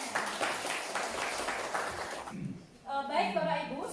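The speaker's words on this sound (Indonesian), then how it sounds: "Tepuk tangan buat semuanya." Audience applause at a school presentation on positive culture, a few seconds of rhythmic group clapping that breaks off as a voice begins speaking.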